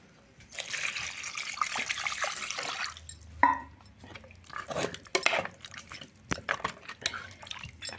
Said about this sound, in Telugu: వాటర్ పోసేద్దాం